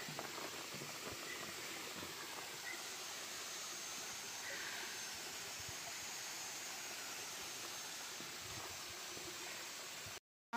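Small waterfall at Tasiklama running low, a steady, faint rush of falling water that hisses evenly for about ten seconds before cutting off abruptly.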